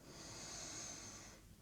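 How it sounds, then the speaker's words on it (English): A steady, hissy inhalation through the nose and mouth during a vocal toning breathing exercise, close and fairly quiet, lasting over a second before fading. "Breathing in"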